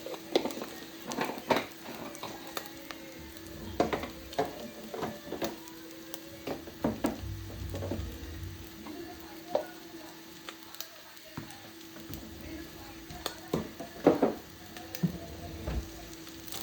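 Chilli flakes stirred into onion noodles frying in a pan, a quiet low sizzle under irregular clacks and scrapes of the spoon, nearby and without speech.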